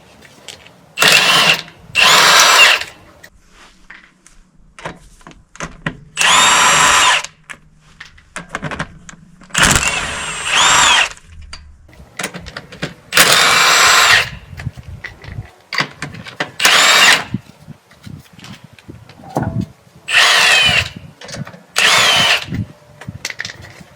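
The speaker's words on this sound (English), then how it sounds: "now we're going to take the lug nuts off" Impact wrench spinning lug nuts off a Jeep JK Wrangler wheel during a front brake job, about nine loud bursts of whirring and rattling, each a second or two long, separated by short pauses.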